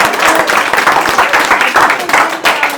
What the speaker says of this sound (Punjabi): ਤਾੜੀਆਂ ਲਾ ਦਿੰਨੇ ਆ ਲਾ ਦਿੰਨੇ